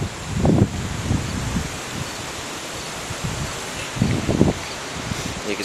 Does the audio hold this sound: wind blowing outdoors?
yes